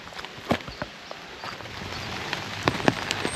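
Rain patters on an umbrella outdoors on a walk near castle ruins, a dense close drumming of drops with sharper taps and occasional footstep-like knocks, no talking.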